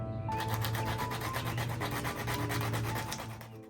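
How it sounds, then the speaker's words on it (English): Steady, even rubbing of fine sandpaper over a surface, close and continuous, with a faint hum underneath, fading slightly at the end. "I'll show you some more sanding so that you can get a sense of it."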